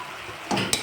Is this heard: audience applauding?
no